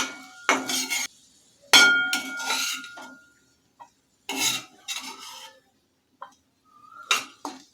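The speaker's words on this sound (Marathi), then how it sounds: "आता ही बटाट्याची भाजी मी एका प्लेटमध्ये काढून घेते" A metal spoon scrapes and clinks against a pan while cooked potato bhaji is moved onto a plate, irregular close scraping strokes separated by short silences.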